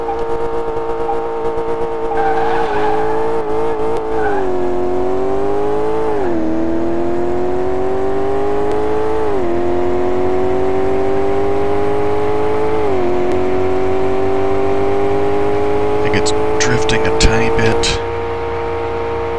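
Car engine in Car Mechanic Simulator 2018 drives along a track, its steady hum rising and dropping in pitch as it revs up through several gear changes, loud and continuous, with a burst of clicks near the end.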